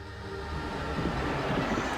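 A ghost train dark ride in a Philips CD-i video game rumbles steadily throughout, a continuous rolling, rattling train-car noise at moderate level with no talk over it.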